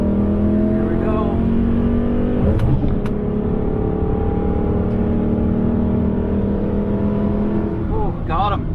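Modified Dodge Challenger R/T running hard on a race track, a loud sustained engine drone with rising revs and a brief pass-by, with a voice talking over it.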